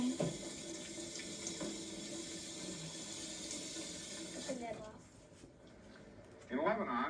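Tap water runs over an onion in a sink, a soft splashing hiss under conversation that continues for several seconds before fading, then a brief louder surge near the end.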